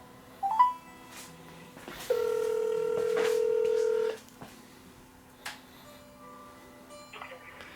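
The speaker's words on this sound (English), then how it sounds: "we'll get him on the phone and see what he has to say about this" A telephone call being dialed: a couple of short keypad tones, then a steady electronic tone holding for about two seconds, with faint background noise and soft clicks around it.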